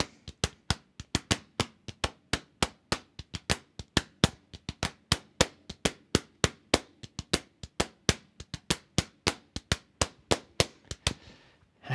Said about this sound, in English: I start tapping it on the steering wheel,